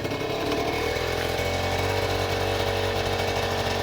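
A cold Yamaha Neos two-stroke scooter engine, just kick-started, settles into a buzzing, raspy idle that stays steady and close, with no talking.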